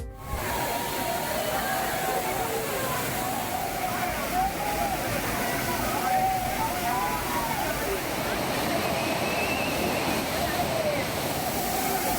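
Courtallam waterfalls with tourists bathing, a loud continuous roar of falling water, dense and unbroken throughout, with faint tonal sounds and possible distant voices mixed into the rushing.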